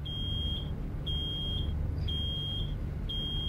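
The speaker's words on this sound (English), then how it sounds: "Oh no. Something's beeping." An alarm in the video game Road 96 beeps in a steady repeating pattern, long high-pitched tones about once a second over a low background rumble.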